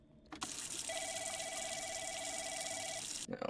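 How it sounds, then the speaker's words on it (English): An office telephone rings in a call center, a steady electronic trill holding for about two seconds over faint background hiss, starting and stopping sharply. "Where's the phone call coming from?"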